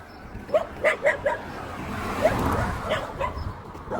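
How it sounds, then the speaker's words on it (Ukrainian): Several dogs bark and yip outdoors in short, scattered bursts at moderate distance, with a faint whimper among them over a steady background hum. "Як там ці собаки ходять, які ходять і гавкають"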